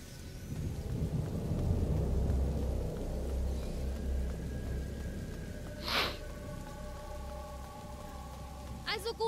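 Storm ambience in the video game A Plague Tale: Innocence, with a low rolling rumble of thunder and steady rain, plus a couple of brief sharp accents later on.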